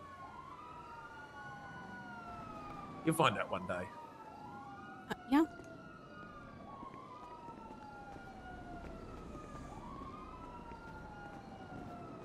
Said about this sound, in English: That's a shit ton of sirens.